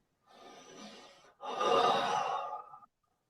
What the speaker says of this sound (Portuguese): Eu estou inspirando aqui e eu respiro aqui.